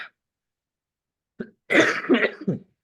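A short catch in the throat, then a cluster of rough coughs and throat clearing, close up with silence before them.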